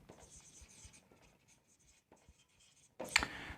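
Marker or chalk scratching across a classroom board during an accounting lesson, a run of soft, quiet strokes followed by a louder, sharper scrape near the end.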